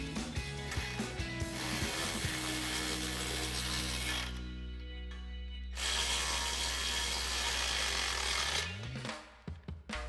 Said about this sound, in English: Now we can go ahead and tighten up our two front flange bolts using our 13mm socket